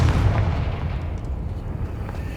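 A Confringo blasting spell explodes in Hogwarts Legacy: one loud, close boom hits at once, then a deep rumble trails off and fades over about two seconds.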